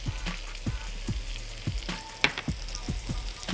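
Garlic frying with onions in a pan gives a steady close sizzle, broken by regular scraping strokes of a utensil stirring through the mix, with no talking.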